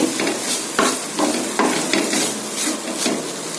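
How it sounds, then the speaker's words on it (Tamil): Long beans (karamani) stir-fried in a pan, rhythmic scraping strokes of a spatula about every half second over a steady sizzle, close and fairly loud, no voices. "நல்லா பரட்டி விடலாம் ஒரு நிமிஷம் மூடி போட்டு வேக வைக்கலாம்"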